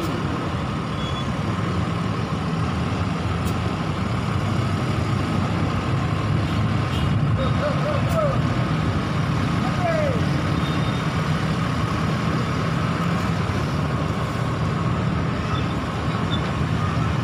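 An NPM Sutan Class intercity bus for the Pariaman to Jakarta and Bandung route idles with a steady low engine rumble, surrounded by traffic noise, with a few brief chirps and clicks over it.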